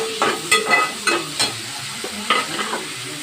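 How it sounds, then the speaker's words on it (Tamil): Tomatoes and green chilies sautéing in a hot pan for a brinjal thokku, with a spatula scraping and stirring in several distinct strokes over a soft background sizzle, close and moderately loud. "தக்காளி ரெண்டு பச்சை மிளகாய் போட்டு நல்லா வதக்கு"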